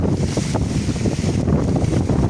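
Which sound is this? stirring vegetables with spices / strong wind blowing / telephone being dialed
strong wind blowing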